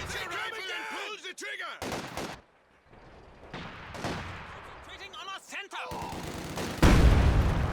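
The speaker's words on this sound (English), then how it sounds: "There it goes, gets detonated by the Pioneers." Demolition charge detonated by Pioneers in Company of Heroes 2, heard amid a busy battlefield of gunfire and explosions, with a loud blast near the end under ongoing commentary.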